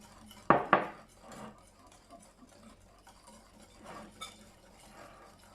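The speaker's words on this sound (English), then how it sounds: "I'll just pause it while I mix it together" Monte Cristo sandwich batter is whisked in a bowl, opening with two sharp utensil clinks against the dish, then soft repeated stirring and tapping, close and quiet with no talking.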